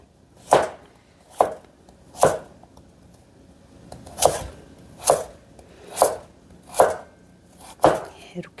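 Knife slicing a carrot into thin flat pieces on a cutting board while making a seasoned squid side dish, eight crisp, evenly spaced chops ringing out clearly and close up with nothing else around them.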